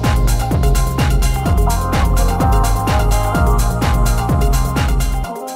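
Loud beginner-level techno loop with a pounding four-on-the-floor kick, bass and layered synths, repeating evenly for about five seconds before cutting off abruptly.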